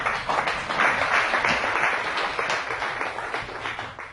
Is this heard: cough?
no